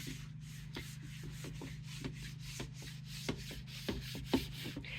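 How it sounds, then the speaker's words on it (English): Parts wiped with a tack cloth before epoxy coating, a soft repeated rubbing and swiping, close and faint, in a regular rhythm of short strokes over a low steady hum. "We're going to tack cloth them off."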